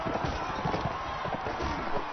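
Horses gallop in the Mount and Blade Warband video game, a dense, continuous drumming of hooves that runs steadily through the whole stretch at close range, with no pause.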